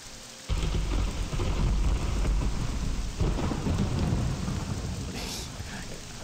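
Rain hisses steadily in a video game while distorted thunder bursts in, rumbling heavily and booming again midway before fading back under the constant downpour.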